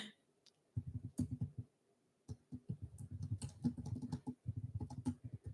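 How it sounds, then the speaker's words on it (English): Fingers type on a computer keyboard in quick bursts of soft, close keystrokes separated by short pauses, with no voices. "just typing something in chat"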